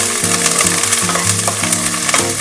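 Ginger garlic paste fries with onions in a pan for egg fried rice, a continuous loud sizzle with stirring scrapes, close up, while a steady tonal background hum runs beneath.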